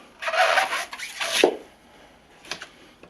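An Extrema Ratio RAOII heavy-duty folding knife rasps and scrapes into a small fibrous coconut, two long close grating strokes followed by a short faint scrape after a pause.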